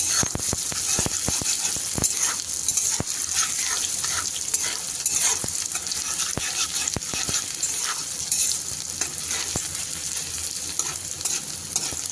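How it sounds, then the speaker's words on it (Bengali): Chopped onion fries in oil for birista, a steady close sizzle with frequent sharp clicks of stirring against the pan running throughout, and no voices. "এই পেঁয়াজের আমি একটা বেরেস্তা বানিয়ে নেব।"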